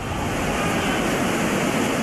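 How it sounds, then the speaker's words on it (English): Loud, steady roar of river rapids as water pours over an 8-foot drop, a dense unbroken rush with no voices over it. "Now they have water that's coming over that 8-foot drop."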